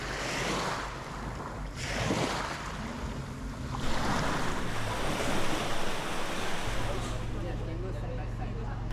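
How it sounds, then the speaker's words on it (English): Ocean surf breaking along Long Beach in the Perhentian Islands, Malaysia, a steady loud wash of waves with wind buffeting the microphone and a low engine-like hum from a nearby boat throughout. "So we are here at Long Beach and here we are. I think it is a perfect place for surfing."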